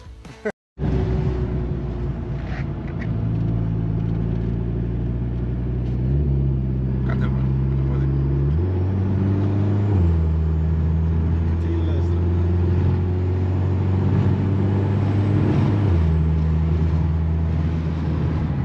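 Seat Leon 20VT with DSG gearbox accelerates hard under kick down, engine pitch climbing in steps as gears shift, loud and close inside the cabin.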